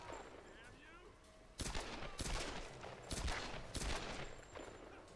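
Bursts of rapid gunfire in the video game Tomb Raider (2013), several loud volleys crackling over a quiet background over a few seconds.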